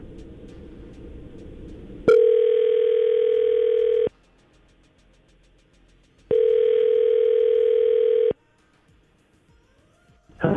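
Two long steady telephone ring tones, each about two seconds, separated by silence, clear and close as a call rings out to a radio show guest.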